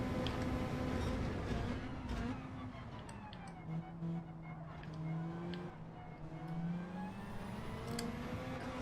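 Race cars in a Gran Turismo 7 World Series race brake and accelerate through a chicane, engine notes dipping and rising in pitch over a steady loud drone, with a commentator talking over them.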